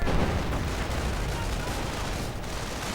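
Dense, continuous gunfire and explosions from a World War II strategy game battle, with a StuG 42 assault gun firing among volksgrenadiers, engineers and riflemen; a loud, unbroken wash of shots and blasts with no gaps.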